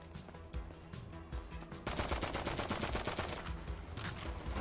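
Machine pistol in GTA 5 rattling off rapid bursts of gunfire, a quieter stutter of shots first, then a louder, sustained automatic stream of closely spaced cracks, with no talking over it.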